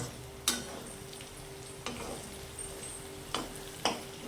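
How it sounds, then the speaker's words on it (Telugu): Sabudana (sago) added to a pan for homemade sabudana khichdi and stirred, a soft continuous frying sizzle punctuated by four sharp spoon scrapes or knocks against the pan at irregular intervals. "సాబుదానా వేస్తున్నాను. ఇట్లా మొత్తం సాబుదానా వేసుకోవాలి."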